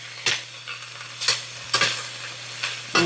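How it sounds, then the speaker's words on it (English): Onions and bell peppers for beef fajitas sizzle in a hot pan while a utensil scrapes and stirs them in four or five sweeping strokes, close and clear with no talking. "now I'm going to start stirring these up in the pan so we can saute these up"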